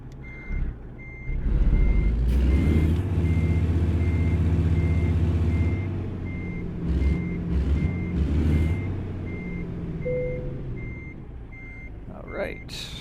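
A truck in American Truck Simulator backs up with steady, evenly spaced reversing beeps, joined by a loud low engine rumble that swells and then eases off, with a brief hiss near the end.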